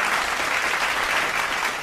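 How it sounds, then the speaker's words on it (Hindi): Steady applause from an audience at a Hindi comic poetry gathering, a dense, continuous wash of clapping throughout. "आप तालियां बजाएं।"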